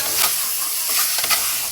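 Pork and cooked potatoes fry in a pot, steady loud sizzling with scraping stirring strokes throughout.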